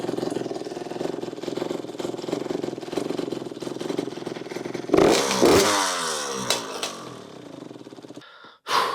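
A 2007 Honda CR85RB dirt bike engine idles with a steady, close putter for several seconds, then revs in a loud burst and sputters down into silence.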